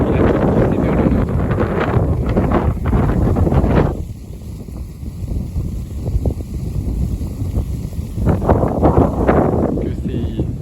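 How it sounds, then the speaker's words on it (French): Strong southerly gale buffets the microphone with loud, continuous roaring gusts that ease briefly mid-way before surging again. "c'est un coup de vent là."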